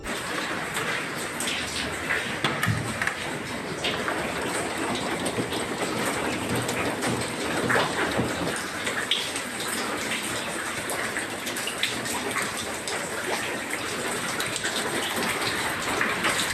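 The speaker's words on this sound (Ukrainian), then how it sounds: "Ось дивіться, пожежні машини просто заливає водою" Water pours and floods down onto fire trucks parked inside a damaged emergency building used as a fire station, a steady broadband rush and patter like heavy rain, continuous and fairly close throughout.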